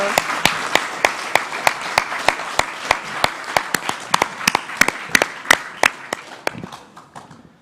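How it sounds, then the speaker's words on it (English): Applause at the Ballina Shire Australia Day celebrations, loud sharp individual claps from a nearby person over a softer crowd clapping behind, beating fast and steadily before thinning out at the end. "Big round of applause."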